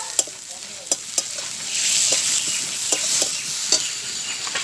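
A spice paste of cumin, chili powder and a little turmeric frying with vegetables in a pan for a Bengali prawn and kundru curry. A spatula stirs with sharp clinks and scrapes over a loud, close, steady sizzle, and no one speaks.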